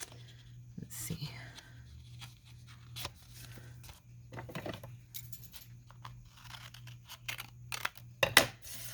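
Scissors trim paper in quiet close snips and rustles, with a steady low hum underneath and whispered talk running over much of it.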